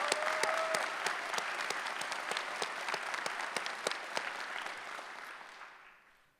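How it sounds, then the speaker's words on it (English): An audience at the San Jose police academy Class 53 graduation ceremony applauds in a long round of crisp, overlapping claps that gradually thins and fades out at the end. "We'd like to thank her with a round of applause as well."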